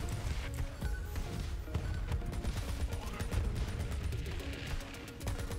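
Dahl gun firing in Borderlands 3, a dense stream of rapid clattering shots running steadily throughout, loud and close, layered with game effects.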